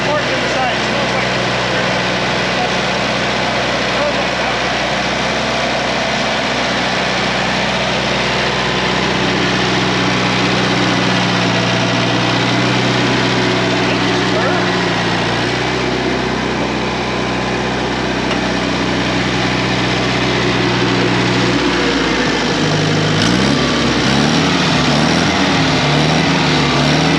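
An old tractor engine idling steadily and loudly up close with a constant low rumble, its pitch dipping and wavering near the end.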